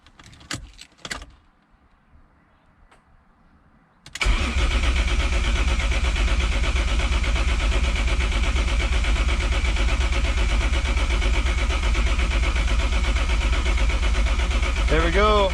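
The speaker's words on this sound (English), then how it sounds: "I want to see if I can crank the car and get oil pressure." A BMW E36 with a swapped-in Toyota 1JZ engine cranks over, a steady loud droning starter-and-engine churn that runs unbroken for about eleven seconds after a few seconds of quiet shuffling and faint voices.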